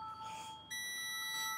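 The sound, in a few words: multimeter beeping while testing a charger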